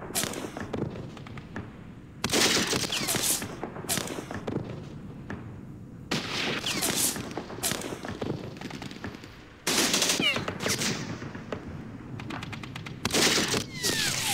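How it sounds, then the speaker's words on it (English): Gunfire in Campaign Series Middle East, during a Second Arab-Israeli War battle at the Rafa crossing, comes in repeated loud bursts of rapid machine-gun and rifle shots, separated by brief quieter gaps. "Love the return fire here."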